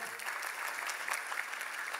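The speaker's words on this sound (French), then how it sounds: "On peut applaudir." Quiet, sustained applause from an audience at a design study day in Tours, a dense patter of many hands heard from a distance.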